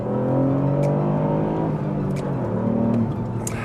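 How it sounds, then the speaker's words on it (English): A Ford Fiesta ST with a three-cylinder engine and manual gearbox revs and accelerates, the engine note rising and shifting through gears, loud and close for several seconds. "manual handbrake, a potent little 3-cylinder engine."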